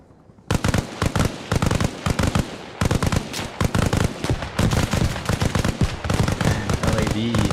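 Rapid video-game gunfire crackles almost nonstop in dense bursts after a brief quiet start, with heavy blasts mixed in during a multiplayer capture match; loud and close throughout.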